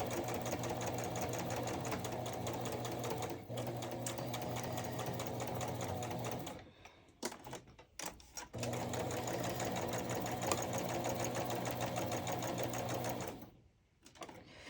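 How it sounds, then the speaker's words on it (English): A sewing machine stitches around the edge of an art journal page in fast, steady bursts of mechanical whirring, pausing briefly twice and then starting again, close and loud with no talking. "Let me just sew around the outside of this super quick."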